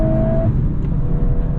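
A Volkswagen Golf R in Nürburgring mode drives with its exhaust wide open, giving a loud, steady engine drone from inside the car that holds without pause.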